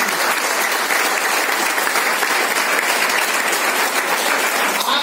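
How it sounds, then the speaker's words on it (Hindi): Loud, dense applause from an audience honouring distinguished guests at an event, a continuous wash of many hands clapping, steady and close, with no voice over it. "जोरदार तालियां"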